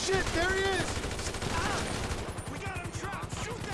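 Machine gun fire rattles in fast repeated bursts during a GTA 5 mission, steady and fairly close, with voices talking and exclaiming over it.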